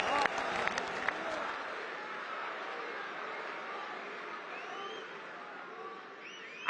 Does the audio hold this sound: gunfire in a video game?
no